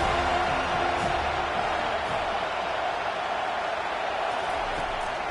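A large football stadium crowd roars in a dense, sustained wash of cheering on a big third down, staying loud and steady throughout, with no clear voices standing out.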